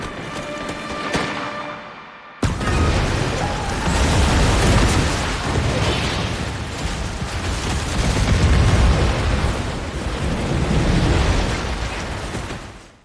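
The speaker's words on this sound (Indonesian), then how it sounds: "Akhirnya Caesar berhasil ngeledakin tangki itu dan kabur." A tank explodes in the war film War for the Planet of the Apes: a sudden loud blast hits, then a sustained roaring rumble of fire and debris lasts to the end.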